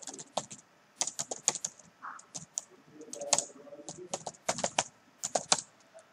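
Quick bursts of keystrokes on a computer keyboard while C++ code is entered, crisp close clicks in uneven runs separated by short pauses, fairly quiet.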